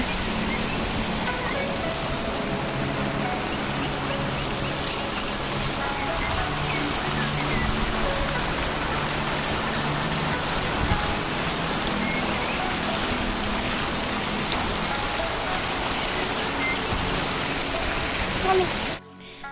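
A water fountain splashes continuously nearby, a full, steady wash of falling water that holds its level throughout before cutting off abruptly at the very end.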